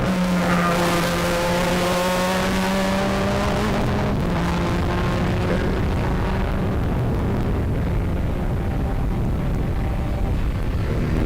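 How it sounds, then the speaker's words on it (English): Formula open-wheel race cars screaming past on the Sebring racetrack during a Turkey Trot meet, a loud high engine whine sweeping down in pitch as the cars pass, then fading into a rough distant roar. "Got the Formula open wheelers out on the racetrack right now"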